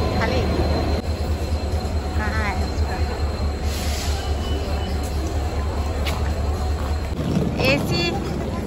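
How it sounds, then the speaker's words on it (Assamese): A train rolling into a station, a loud continuous low rumble of wheels and carriages with occasional squeals and clanks, close by, and people talking over it at times. "আগিয়া ট্ৰেইন,"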